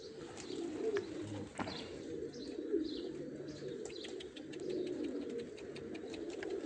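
Racing pigeons at a loft during a race, their soft cooing faint and continuous against a low background hum, with occasional chirps and wing flutters and no talk.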